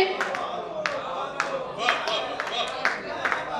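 An audience at a live stage event claps in scattered, uneven bursts, with several sharp claps spread across a few seconds under a speaking voice.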